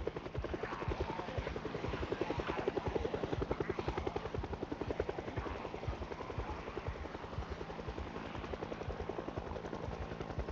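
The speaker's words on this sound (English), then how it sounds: "How did the helicopter come?" A helicopter in the video game Project Zomboid thuds overhead with a steady rapid rotor chop that stays loud and constant throughout, no speech over it.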